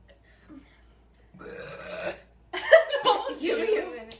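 Burping after drinking a whole can during a burping challenge; a quiet lead-in gives way to drawn-out throaty belches that grow louder and rougher, close to the microphone, with a little laughter around them.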